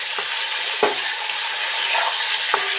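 Tomato and coriander leaves being stirred in hot oil for a mustard Bhola fish curry, a steady close sizzle of frying with a few spoon scrapes against the pan.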